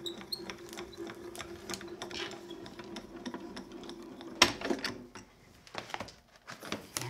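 A manual embossing machine is cranked, rolling a card and embossing folder sandwich with a raspberry plate through its rollers, giving a steady low mechanical grinding with faint clicks and one sharp knock partway through, close and moderately quiet.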